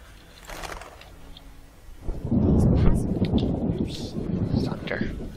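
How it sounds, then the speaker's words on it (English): A deep thunder rumble rolls in and swells loudly within The Witcher game, lingering as a low, sustained growl after a brief stretch of quieter sound and faint voice. "Thunder."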